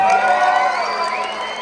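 An audience at a magic show at Six Flags Fiesta Texas cheers and whoops in a short, loud burst of crowd voices that fades slightly over its brief length.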